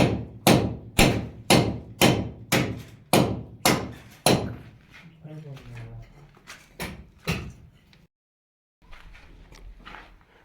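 Hammer blows during fitting work, about eight loud, evenly spaced strikes close by, followed by a few scattered knocks and people talking between them.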